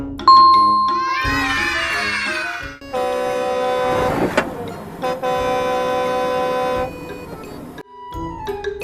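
Truck sounds in a vehicle sound-guessing game: loud, sustained horn-like tones that honk and blare in several long blasts with short breaks between them, close and clear, with no talking.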